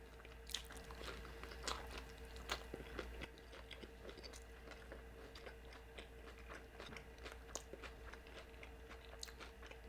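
Close, quiet bites and chewing of a fish taco at a Mexican food table, with soft irregular crunches and mouth clicks repeating steadily throughout, no talking.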